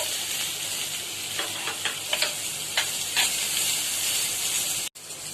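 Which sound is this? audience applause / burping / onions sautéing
onions sautéing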